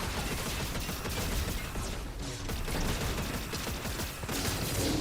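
Dense, continuous gunfire in a Fortnite match rattles on throughout, a steady fusillade of rapid shots with mechanical clatter, fairly loud and unbroken, with no talk over it.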